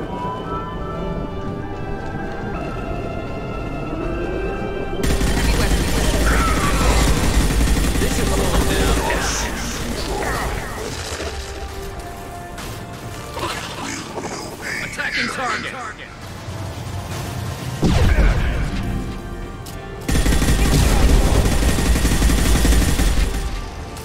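Gunfire in Mass Effect 2 comes in dense bursts and rattling volleys amid explosions and combat noise, with voices talking over the fight throughout.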